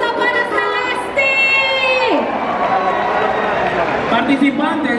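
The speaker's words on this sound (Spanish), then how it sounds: "¡Fuerte el aplauso para Celeste!" Crowd at a cosplay and dance convention cheering and applauding for a costumed performer, with music tones running through and a voice over the dense, steady roar.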